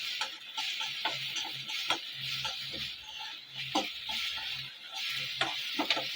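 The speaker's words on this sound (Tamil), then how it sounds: "தக்காளி வெங்காயம் நல்லா ஃப்ரை ஆகணும்." Tomato and onion sizzle steadily in a frying pan for a shallot-and-garlic tamarind kuzhambu, a close continuous hiss broken by scattered light clicks and scrapes of stirring, with no talking.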